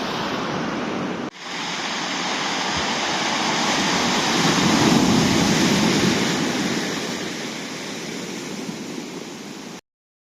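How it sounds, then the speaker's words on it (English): Sea waves on the Cornwall coast wash continuously onto the shore, a broad rushing roar that swells and eases, heard alone with a sharp break near the start. "enjoy a nice little wander and enjoy the sounds of the sea"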